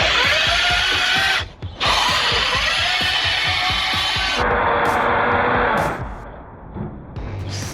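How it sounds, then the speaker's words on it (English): Chainsaw cutting a large submerged log underwater in a river, a steady churning drone with a brief drop in the middle and a shift to a lower, muffled tone near the end. "First underwater chainsaw."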